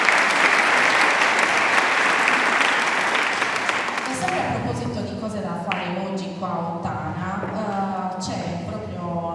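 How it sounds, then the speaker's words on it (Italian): Enthusiastic applause for the San Nicola choir inside a church, a dense burst of clapping for about four seconds that thins out as someone speaks over the tail end. "un applauso per il coro San Nicola"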